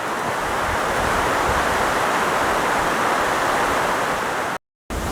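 A flooded creek in Portland, Oregon runs high, fast and muddy brown, giving a loud, steady broadband rush of churning water with no voices, broken by a brief dropout near the end.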